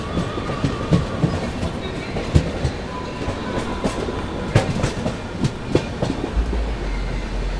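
Goa Sampark Kranti Express train pulling out of Vadodara Junction and picking up speed, with steady rumbling rail noise and repeated clickety-clack wheel beats over the joints running throughout.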